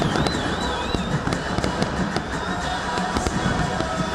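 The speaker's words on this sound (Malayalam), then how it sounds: "അവസാനം നടന്ന വെടിക്കെട്ടും കാണികൾക്ക് നവ്യാനുഭവമായി" Rapid bursts of fireworks crackling and popping continuously at a Qatar football event, dense overlapping bangs over a constant roar, with whistling streaks rising through.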